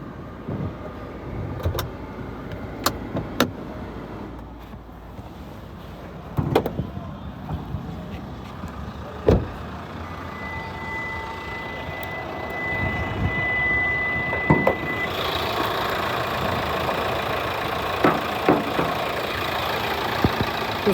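A 2017 Hyundai Creta automatic idles with a steady low engine hum, heard close with occasional clicks and knocks, the sound growing fuller and brighter partway through as if the bonnet opens onto the running engine.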